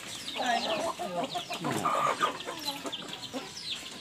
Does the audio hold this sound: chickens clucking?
yes